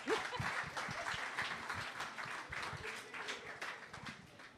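Audience applause for a presenter at a French-language talk on artificial intelligence, a dense steady clapping that runs the whole time with a faint voice underneath.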